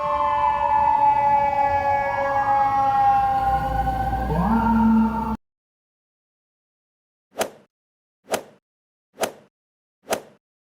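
A cartoon fire truck siren wails loudly in rising and falling sweeps for about five seconds, then cuts to silence, followed by four sharp, evenly spaced clicks.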